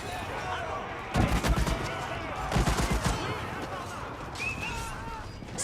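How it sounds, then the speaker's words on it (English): Musket volley fire in an Age of Empires 4 battle: two bursts of crackling shots about a second apart, moderately loud over steady battle noise, with a voice talking in the background. "They actually got a pretty good volley there."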